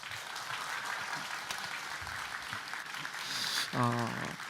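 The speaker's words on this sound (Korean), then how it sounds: "목사님 우리 뜨거운 환영의 박수 우리 하겠습니다" A Korean church congregation at a Sunday service applauds to welcome a visiting pastor, a continuous wash of many hands clapping that swells near the end, where a voice briefly cuts in.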